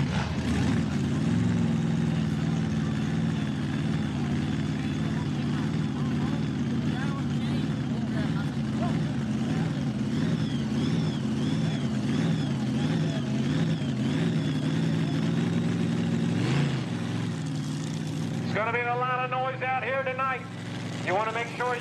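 Semi truck engines roar steadily at a tractor pull event in Millers Tavern, Virginia, a loud sustained drone with rising whine toward the end, while an announcer talks over it.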